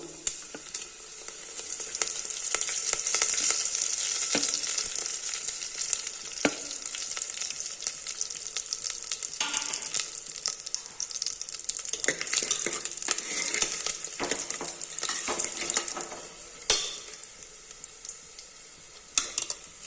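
Mustard seeds, dried chillies and curry leaves frying in hot oil for a South Indian pappu rasam tempering, giving a steady, loud close sizzle with crackling pops and occasional stirring scrapes throughout, no voices.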